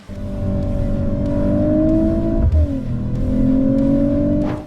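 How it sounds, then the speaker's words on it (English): A Mercedes-AMG CLE 53 4MATIC+ with a turbocharged 3-liter inline-six revving loudly through its exhaust: two long, rising engine pulls separated by a brief dip, close and powerful, with no talk. "So right now I'm going to go ahead and make the exhaust nice and loud."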